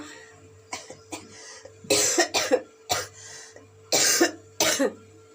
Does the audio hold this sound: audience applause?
no